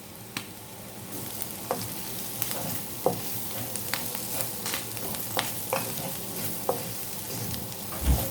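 Sausage stir-fried with onions and pepper powder crackles gently in a pan while a spatula clacks and scrapes against the metal at an irregular rhythm, fairly quiet and close, with no voices.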